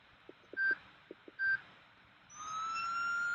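Short electronic police siren whoops sound twice in a Roblox game, with small clicks between them, then a steady rising wail starts up and holds, thin and synthetic.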